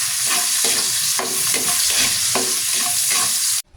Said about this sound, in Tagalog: unahin naman natin na igisa itong sibuyas